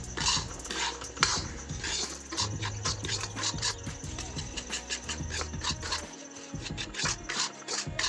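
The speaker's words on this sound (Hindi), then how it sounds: "इसको अच्छे से भून लेती हूँ।" Semolina roasting in hot oil in a pan, stirred steadily with a spoon: continuous close scraping and rubbing with light metallic clinks over a low background hum.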